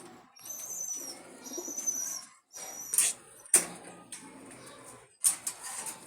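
Jalali pigeons in a coop with soft, intermittent cooing and bird calls, brief sharp chirps and some flutter, close by.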